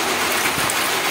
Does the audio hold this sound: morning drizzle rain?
yes